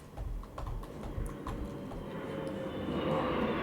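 A voice imitates a passing airplane with a steady rising whoosh that swells toward the end, over continuous keyboard typing and background music.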